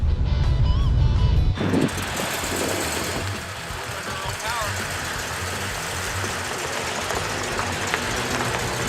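A 1972 Cadillac engine running as the car starts moving under its own power, a loud low rumble at first giving way to a steady engine drone heard from inside the cabin, with someone talking over it.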